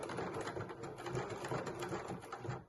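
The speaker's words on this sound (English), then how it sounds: "Just going to stitch around the edge of the velcro" A sewing machine runs steadily, stitching around the edge of red velcro on a baking apron, with a continuous close, even motor whir and rapid needle rhythm throughout.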